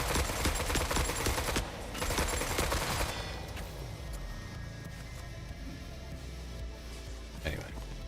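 Dense automatic gunfire rattles in a video game as a turret is shot at, loud and continuous for the first few seconds, then fading to quieter game ambience with a single later shot.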